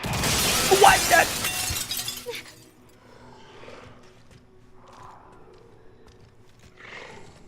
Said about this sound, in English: Of course, it's the freaking glass.